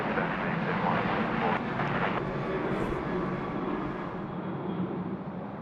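A Velocity airliner rolling on runway 16 right at Sydney Airport, heard as a steady, broad jet engine roar at moderate distance that slowly eases, with faint background chatter.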